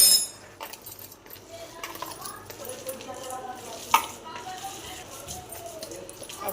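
Raw chicken being mixed by hand with spices and salt in a bowl for kebabs: soft, wet squelching and stirring with a few light clinks, fairly close, while someone talks over it.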